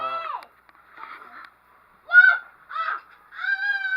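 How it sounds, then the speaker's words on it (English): Birds call outdoors in several short, fairly loud cawing bursts, spaced irregularly over a few seconds with no talking. "Look at the birds."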